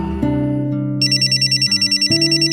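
A phone rings with rapid, evenly pulsed electronic tones, loud and close, over a sustained musical background.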